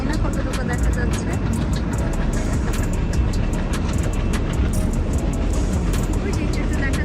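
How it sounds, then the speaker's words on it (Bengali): A freight train passes on the railway line beside a village house, producing a loud continuous rumble with rapid rhythmic clacking of wheels running throughout. "ওই যে একটু দেখা যাচ্ছে যে ট্রেন যাচ্ছে, ওইটা দেখেন, এটা হলো মালগাড়ির ট্রেন"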